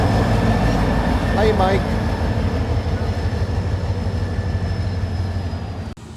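Railroad locomotive L585 shoving a cut of freight cars around the other leg of a wye, a steady low rumble with a brief wheel squeal, while a person speaks briefly over it.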